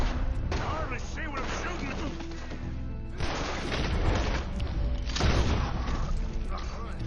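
Gunfire from Red Dead Redemption 2 rings out in repeated sharp shots and booming reports amid dense in-game sound effects, with characters talking over the action.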